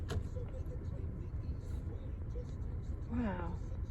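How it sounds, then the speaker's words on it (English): A car rolling backwards up a hill in neutral with the handbrake off, a steady low road rumble running throughout, with a brief tonal sound near the end and faint voices in the background. "So we're in neutral and we're going backwards up the hill."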